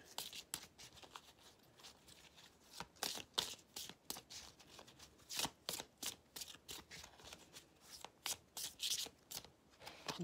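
Oracle cards drawn and handled during a reading: a steady series of crisp paper slaps, rubs and flicks, close and fairly quiet, with no talking over them.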